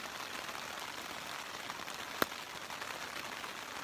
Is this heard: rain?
yes